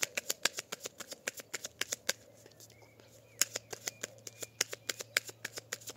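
A tarot deck is cut and shuffled in quick, crisp card flicks and slaps, close and clear, in an uneven rapid rhythm with a short pause midway.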